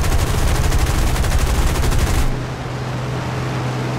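Rapid, continuous gunfire from a P-36C Hawk fighter plane in War Thunder, a dense, loud burst that stops abruptly, leaving a steady engine drone.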